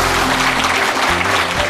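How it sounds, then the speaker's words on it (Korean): A short burst of dense applause for the mayor at a Seoul district town-hall meeting, loud and close, with a steady low hum running beneath the clapping. "시장님께 다시 한번 큰 감사의 박수 한번"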